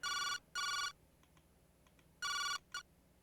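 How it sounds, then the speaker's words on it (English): An unanswered phone rings in the detective video game Jake Hunter Detective Story: Memories of the Past, giving two long electronic ring bursts, a pause, then another ring and a short clipped burst, clear and alone over quiet background. "Her phone was ringing, but she wasn't picking up."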